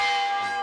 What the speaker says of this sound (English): Thank heavens for those church bells.